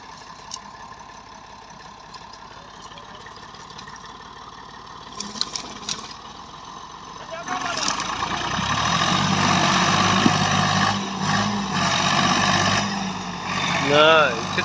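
A small Massey 240 tractor engine starts up and runs, rising to a steady loud mid-pitched drone in the second half as the driver climbs on, with someone talking over it at times.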